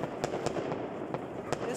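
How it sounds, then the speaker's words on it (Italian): New Year fireworks pop and crackle at a distance in scattered faint bursts against steady background noise, with voices faintly present. "Vai con i fuochi, sì!"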